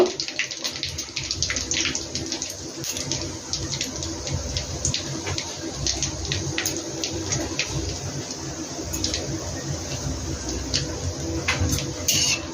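Cardamom, cinnamon, cumin and chilli fry in hot oil for chicken handi, a constant close sizzle scattered with small sharp crackles.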